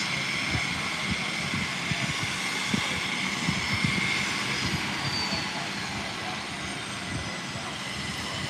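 A Cessna airplane taxis back out at Fernandina Beach airport, a continuous broad engine rumble and whoosh heard at a moderate distance, fairly steady in level throughout.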